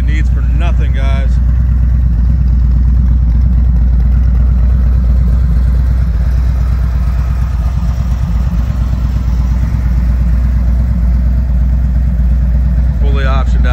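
A 2017 Harley-Davidson CVO Screaming Eagle Street Glide engine idles close by with a steady deep rumble, under someone talking throughout.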